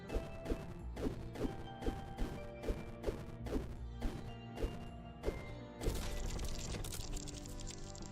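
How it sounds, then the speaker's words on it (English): Repeated smashing crashes in the dungeon video game Barony as an object is broken into pieces, a steady series of sharp impacts about twice a second over game music, then a denser crashing burst. "Smashed into pieces, nothing inside."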